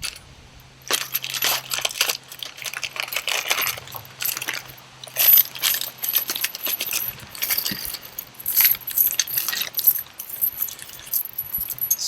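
A small box of mounting hardware for a Torqeedo outboard installation, such as bolts and washers, is dumped out and rummaged through, producing continuous close metallic clinking, rattling and jingling for about twelve seconds.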